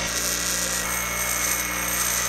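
Angle grinder working the edges of steel pieces for homemade motorcycle floorboards, a steady, loud, continuous whine with a constant hum and no pauses, heard alone with no talk.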